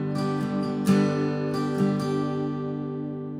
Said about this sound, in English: So now that first progression all together a little bit slower.